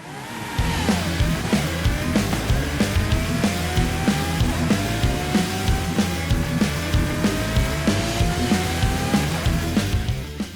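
A Ferrari in the racing game Forza Horizon runs a lap, its engine note rising steadily through long gear pulls with tire noise beneath, loud and continuous without speech.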